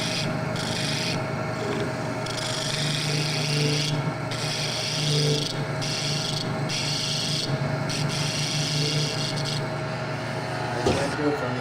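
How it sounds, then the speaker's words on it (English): Light scraping cuts into end grain with a woodturning tool held in a scraping position, worked from the inside out: a steady, continuous rasping rub close by, with brief pauses in the cutting. "take the tool, put it into a scraping position, and take light scraping cuts from the inside out"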